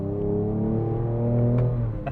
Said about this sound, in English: there's no better way to wake up than to an awesome sounding car, and this 3-liter V6 definitely delivers on that for sure